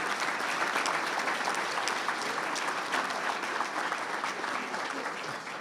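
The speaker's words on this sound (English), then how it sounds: "give a big round of applause" An audience at a technology education center dedication ceremony gives a round of applause, a steady dense wash of clapping that fades slightly at the end.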